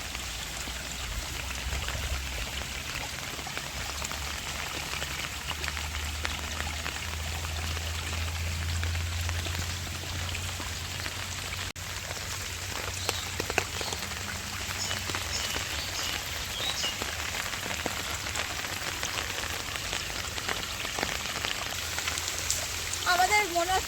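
A heavy downpour falls over a village, a steady, dense hiss of rain hitting surfaces that continues without a break at moderate loudness.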